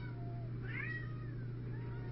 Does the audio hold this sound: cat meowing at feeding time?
yes